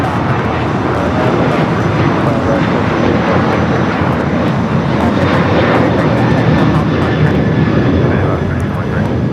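Alaska Airlines Boeing 737-800 on its takeoff roll at LAX, bound for Cancun: a loud, steady jet roar fills the whole stretch without letup, with voices talking over it.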